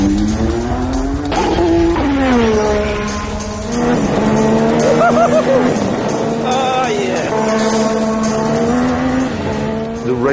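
Ayrton Senna's mid-1980s racing car engine roars loudly and continuously, its pitch climbing and dropping as it is driven through corners, with brief tyre squeal between gear changes.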